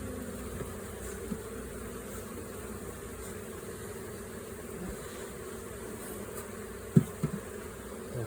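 Agitated honeybees at an opened hive during an inspection, a steady dense buzz that hangs over the whole stretch, with a few sharp knocks near the end.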